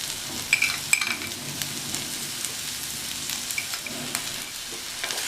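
Chow chow poriyal being stirred in a pan, soft scraping and light sizzling with a few sharper clinks of the spoon against the pan, steady and close, with no talk.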